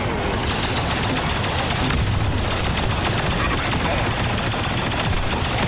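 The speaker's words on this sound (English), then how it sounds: "let's set up the sentry gun." In the Poppy Playtime video game, a sentry gun fires a dense, unbroken stream of rapid shots that stays loud and continuous throughout.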